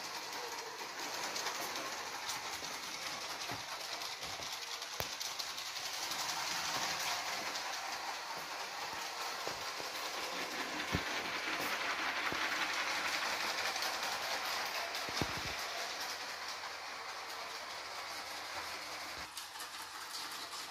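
Toy brick model trams run along a layout track, giving a continuous close rolling rumble with scattered clicks and clacks over wheel joints. No one talks.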